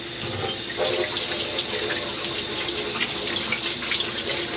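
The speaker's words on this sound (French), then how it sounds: "laver le bout des ongles, des poignets, bien frotter et rincer" A tap runs steadily into a sink while hands are washed and rinsed, a continuous close splashing rush with no pauses.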